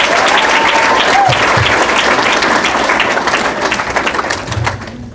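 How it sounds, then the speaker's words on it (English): Sustained applause from a seated audience at a 2017 women's soccer awards reception, dense steady clapping filling the room that thins and fades toward the end. "Let's have a round of applause for our all-conference first team."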